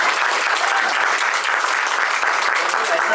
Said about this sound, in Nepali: दुवै पक्षलाई हामी ताली बजाएर धन्यवाद